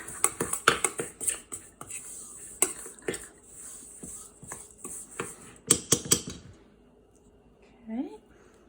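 Cream cheese being mixed with icing sugar in a bowl for a no-bake Nutella cheesecake: a run of close clinks and scrapes of a utensil against the bowl, with a voice talking in places.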